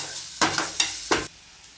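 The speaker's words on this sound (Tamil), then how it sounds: "இப்போ மிளகாய் தூள் போட்டுக்கோங்க கரம் மசாலா நல்லா வதக்கிடுங்க ஒரு நிமிஷம் நல்லா வதங்கட்டும்" Tomato masala with chili powder and garam masala is sautéed in a pan for bread upma, giving three short bursts of stirring and scraping over a soft sizzle, close and fairly loud.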